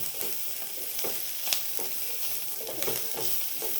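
Chicken sausage sizzling steadily in a pan as it is stirred, with crackling frying noise, close and fairly loud, no talking.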